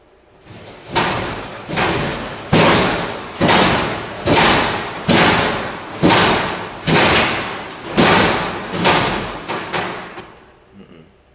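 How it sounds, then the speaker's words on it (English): Heavy lockers in a school bang against a wall in a steady series of about nine loud, booming thuds, each roughly a second apart, with a hollow rumbling decay after every hit. "I think they're lockers, aren't they? They're heavy to move. So I don't know, and they're really banging against that wall."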